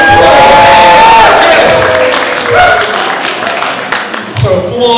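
Audience at a steampunk fashion show cheers, whoops and applauds, loud and crowded with shouting voices mixed in, the roar easing somewhat toward the end.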